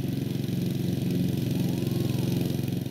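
A lawn mower engine runs steadily nearby with a throbbing, even chug and no pauses, loud and alone without talk.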